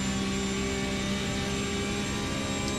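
Damaged Porsche race car at Canadian Tire Motorsport Park running short of full power, a steady, distant engine drone with a thin whine above it, no talk heard.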